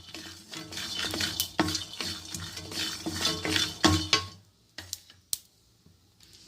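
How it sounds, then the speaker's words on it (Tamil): Peanuts being dry-roasted and stirred in a kadai (wok), with close, irregular scraping, rattling and clinking of nuts and spoon against the pan; the stirring goes on steadily, then thins out to a few sparse clinks near the end. "இப்போ இந்த மாதிரி வேர்க்கடலையை வறுத்து எடுத்துக்கோங்க ஃப்ரெண்ட்ஸ்"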